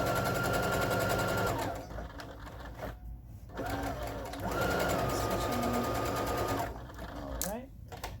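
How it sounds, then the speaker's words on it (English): A sewing machine stitches the side seams of a skirt, its steady fast whirring running in long loud stretches with brief pauses between passes, while a person talks over it. "So we're gonna sew up the sides of our skirt, and then we'll attach them both together."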